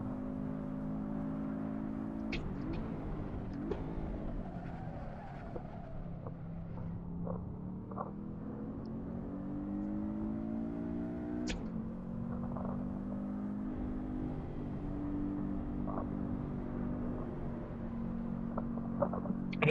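A Subaru with a CVT transmission lapping the Sepang circuit in Assetto Corsa: a droning engine note that holds and slides smoothly in pitch rather than stepping through gears, with faint tyre and kerb ticks and no talk.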